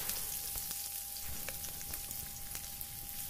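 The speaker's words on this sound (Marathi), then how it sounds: "बारीक चिरलेली हिरवी मिरची, बारीक चिरलेला कांदा आणि बारीक चिरलेला बटाटा मी यामध्ये घालत आहे" Chopped green chilli, onion and potato frying in hot oil with spices, a steady soft sizzle with scattered faint crackles and pops throughout, no voices.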